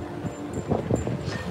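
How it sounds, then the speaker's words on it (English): Wind on a windy day at Universal Orlando blows straight into the microphone, giving a steady rumble with a few gustier bursts, fairly loud and close. "it's probably blowing right into the microphone. It's a windy day here."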